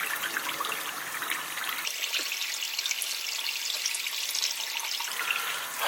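Cold tap water runs steadily into a sink during face washing, a close, continuous rushing splash with a slight change in tone partway through; no one speaks.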